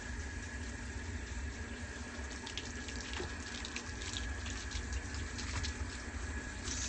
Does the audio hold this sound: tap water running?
yes